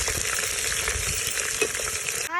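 Chopped onions sautéing in hot oil for biryani, giving a steady close sizzle with crackles and light stirring scrapes, followed by a brief rising whistle-like sweep at the very end.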